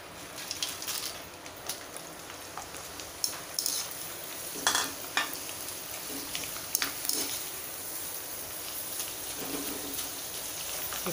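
Homemade potato chips fry in hot oil with a steady, rain-like crackling sizzle and occasional louder bursts, close and continuous throughout.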